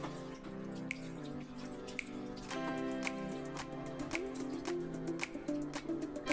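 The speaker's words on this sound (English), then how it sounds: "Now add some water to wash the chicken properly." Water is poured over raw chicken that has been mixed with salt and turmeric for washing. The splashing and trickling is soft and continuous, with small drips, under steady background music.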